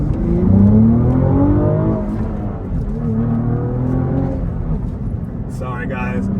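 A Cadillac ATS-V with a manual gearbox revs hard and accelerates, its loud, close engine note rising and falling steadily over several seconds before easing off.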